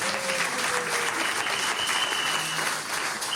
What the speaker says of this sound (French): Acclame Jésus très fort